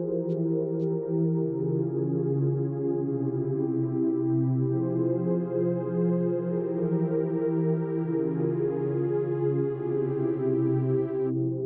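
Sustained dubstep synth pads holding a low chord while an automated filter slowly opens, the tone brightening gradually over time, steady and loud with no voices.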